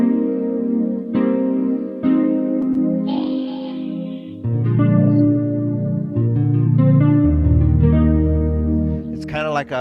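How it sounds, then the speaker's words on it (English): A guitar played through a subtle flanger effect, its notes swirling in a gentle, wavy stereo sweep; a sequence of plucked notes and chords rings out clearly over about ten seconds. "It's kind of like a wavy stereo effect."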